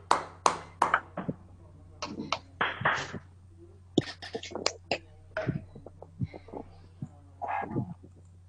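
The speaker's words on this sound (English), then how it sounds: "let's have a big applause for Sangeeta and welcome her on stage" Scattered hand claps from an audience at a foundation day event in Banki, welcoming a performer on stage; sharp irregular claps come in short bursts over a low steady hum, fairly close and moderately loud.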